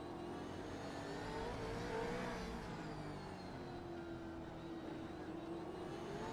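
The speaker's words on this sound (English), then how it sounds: "I love going quiet through there and just listening to the throttle application all through that staircase section" V8 race car in a sim racing game at a Motorsport Australia event, engine note rising and falling under steady throttle through a corner sequence, continuous and fairly loud with no talk.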